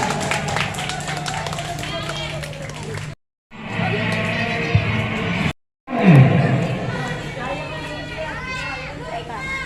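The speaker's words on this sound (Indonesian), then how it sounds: "beri tepuk tangan yang meriah untuk para pemenang lomba azan." Audience at a school competition award announcement clapping and cheering for the winners of a call-to-prayer contest, a busy crowd roar with voices mixed in, cut by two brief dropouts.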